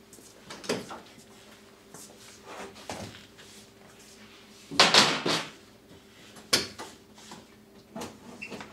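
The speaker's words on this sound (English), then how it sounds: "So now I'm going to pop these doors off" Vinyl cab doors being popped off a Curtis base cab, a series of irregular plastic clicks, snaps and rustling thumps at close range, with a steady hum in the background.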